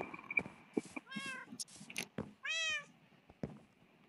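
Minecraft cats meow in a game, several rising and falling cries in quick succession over a low background with scattered clicks, fairly close and clear with no talking.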